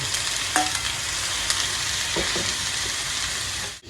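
Bison meat and onion fry in a pan for a casserole with zucchini, giving a steady, close, broadband sizzle that is broken by a few sharp clicks of a utensil stirring or scraping.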